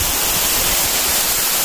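Nidan Fall at Katangi near Jabalpur pours in a dense, loud, unbroken roar, close and steady throughout with no voices over it.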